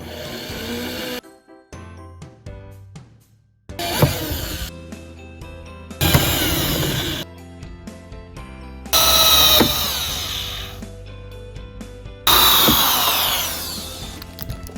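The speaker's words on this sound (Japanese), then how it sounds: "穴を開けていきます。" A power drill bores holes to fit a door handle on a camper van entrance door, running in several loud bursts separated by short pauses, with no speech.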